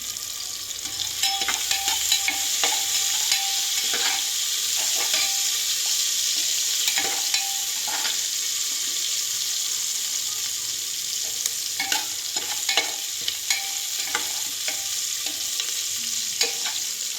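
Onions with rock salt sizzle steadily in a pressure cooker, with occasional scraping stirs over a constant frying hiss.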